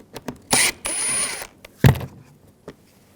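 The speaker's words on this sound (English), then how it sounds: "Take these screws out." Screws are backed out with a T20 socket from a seat-back panel in a 2021-2023 Jeep Grand Cherokee L, giving two short close ratcheting bursts followed by a sharper clack and a few light taps.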